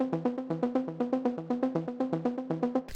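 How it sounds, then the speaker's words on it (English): A mysterious saw-wave synth arpeggio for Afro tech music plays a simple repeating rhythm of short plucked notes starting on E, about five notes per second, clear and upfront with no talk. "Next up, you want to add a mysterious arp, which can just play a really simple rhythm"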